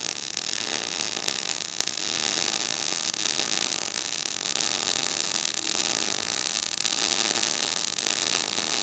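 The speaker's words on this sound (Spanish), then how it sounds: "vamos a proceder entonces a soldar, aplicar nuestros cordones" A MIG welder lays beads with 0.8 mm wire under 100% CO2 shielding gas in a drag technique on steel cabin foundation anchors, producing a dense, continuous close-up crackling buzz that holds steady for nearly nine seconds without talk.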